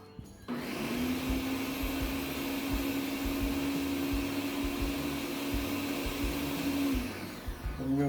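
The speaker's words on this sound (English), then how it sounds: "And we'll blend it until we know it's thoroughly blended." A countertop blender runs steadily on coquito mixture, a loud continuous motor whine that starts abruptly, holds for several seconds, then cuts off.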